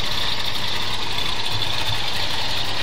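Old Suburban engine with points ignition idling a little rough, a loud close continuous mechanical clatter and whir with a bright ticking texture and uneven low pulsing, no talk.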